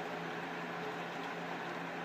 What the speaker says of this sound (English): so I need to have a fan on and all that stuff.